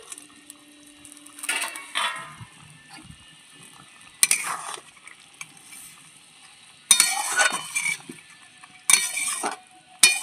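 Fried fish being added to a spicy curry in a cooking pan and stirred, giving four or five bursts of scraping, clattering utensil strokes against the pan over a quiet background with faint sizzling, close by and without speech.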